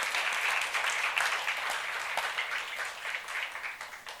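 Congregation at a youth church worship service claps together in steady, dense applause that fills the room, holding fairly even before easing slightly toward the end.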